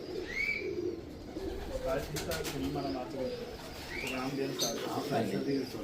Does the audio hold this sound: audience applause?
no